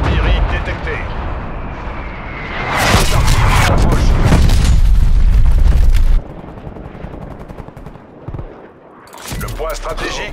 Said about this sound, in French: Blage d'artillerie détecté.